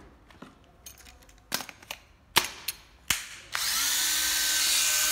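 An old Japanese-made 12V cordless drill fitted with a 13 mm chuck whirs up and runs steadily at close range after a few sharp clicks and knocks from handling.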